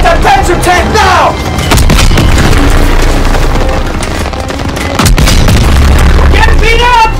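Heavy booming explosions as a Panzer tank is blown up in the Call of Duty: WWII video game, loud rumbling blasts layered with gunfire and battlefield noise, with shouted voices in between.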